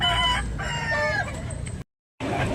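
Rooster crows ring out at the Tabunok fowl market, long wavering calls over a dense background of birds before a brief dropout of sound near the end.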